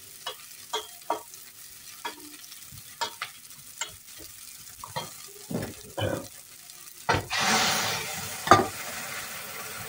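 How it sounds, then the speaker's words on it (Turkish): Food sautéing in a pan with a run of stirring scrapes and taps, then a louder hissing burst near the end as water hits the hot pan, close by. "şimdi bunu güzelce kavurdum"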